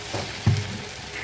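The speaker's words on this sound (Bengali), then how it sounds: "এবার সমানে নাড়তে হবে, নুডলসটা তো সমানে নাড়তে হবে" Chicken Hakka noodles with tomato ketchup are stirred in a frying pan in a home kitchen, giving a brief close sizzle with one soft scrape of the spatula.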